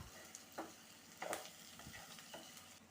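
Onions and banana flower mixture frying in a pan over medium flame, a soft steady sizzle with several quiet scraping stirs at irregular intervals, close and faint, no voices.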